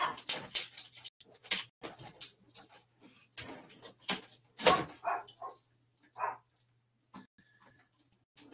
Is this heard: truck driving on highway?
no